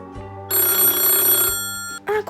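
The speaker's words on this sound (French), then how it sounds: "Oh, c'est le téléphone qui sonne." Loud electronic telephone ring, a bright trilling burst of about a second followed by the start of another ring, close by with no talking over it.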